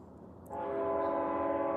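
A train horn starts up after a quiet half second and holds as one loud, steady, sustained blast.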